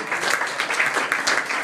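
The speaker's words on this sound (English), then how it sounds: "you can return to the audience with a nice round of applause for an excellent hypnotic subject." A stage hypnosis show audience applauds a volunteer subject returning to their seat, a brief, continuous burst of many hands clapping, steady and fairly loud with no voices on top.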